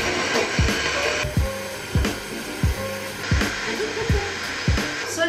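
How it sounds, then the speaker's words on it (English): A blender whirs through a berry smoothie with frozen banana, a loud steady motor roar with rhythmic thumps and surges as the frozen chunks churn, close and continuous. "And now we're going to make some noise and blend it all up."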